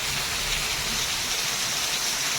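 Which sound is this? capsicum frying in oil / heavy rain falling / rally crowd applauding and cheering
heavy rain falling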